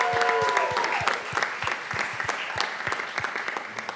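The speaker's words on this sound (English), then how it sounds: "Let's give a round of applause to Razi Missouri." An audience at a student-organised conference applauds, a dense patter of clapping that swells and then thins out over a few seconds.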